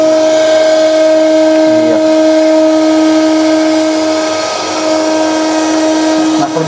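A conventional surface grinding machine runs with a loud, steady tonal whine and hum, holding constant throughout, with faint background noise and no talk.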